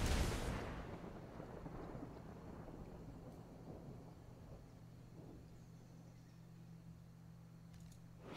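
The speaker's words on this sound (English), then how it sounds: "What is the wizard striking with this lightning?" A wizard's lightning strike in a video game: a sharp, heavy crack at the start rolls into a long, low thunder-like rumble that slowly fades over several seconds, with no voices.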